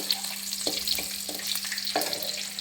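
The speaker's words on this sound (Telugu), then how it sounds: "ఆనియన్ అండి ఎరగడలు కట్ చేసి పెట్టుకున్న సన్న ముక్కలు ఫ్రై చేసుకోవాలి" Thinly sliced onions fry in a pan while tamarind chutney is being made, with a steady close sizzle and a few stirring scrapes against the pan.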